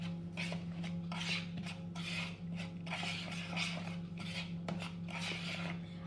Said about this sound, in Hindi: ये ड्राई इंग्रेडिएंट्स को पहले हम अच्छी तरह से मिक्स कर लेंगे।